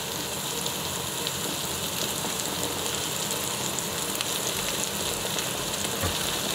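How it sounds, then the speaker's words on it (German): Sucuk slices frying in a pan alongside tomatoes, onions and peppers, a constant dense crackling sizzle, close and even throughout, with no voices. "Nach den 2 Minuten gebe ich nun ein paar Scheiben Sucuk dazu."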